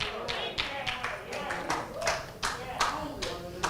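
A church congregation claps in a quick, irregular rhythm, the claps fairly close and overlapping with voices talking throughout.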